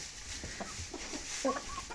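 Leghorn chickens cluck softly in short bursts, with a rooster's brief call rising among them, fairly faint and close by.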